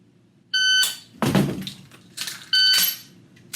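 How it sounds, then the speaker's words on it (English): Two sharp electronic beeps from a competition shot timer sound a couple of seconds apart, each followed by loud bursts of noise, with quiet room tone in between. "that beep sounded like it came faster"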